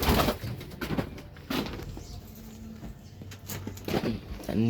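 Pigeons cooing in a coop while being dewormed and settled indoors, soft repeated low coos spread through the clip, close by, with some background noise and brief speech.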